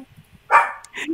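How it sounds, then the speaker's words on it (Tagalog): A dog suddenly yelps after getting hurt: a sharp burst of high cries, then a briefer second yelp, loud and close against a quiet background. "Biglang may nasaktan na aso"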